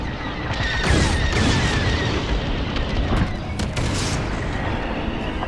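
Dense, sustained rumbling blasts and booming detonations from starship cores being destroyed in the Star Wars: Squadrons space combat game, loud and continuous with layered impacts across the whole stretch.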